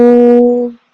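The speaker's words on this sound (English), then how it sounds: "we exhale with the sound of woo" A voice making a sustained exhaled "woo" sound from the top of the chest, one steady tone held for under a second and then cut off, close and loud.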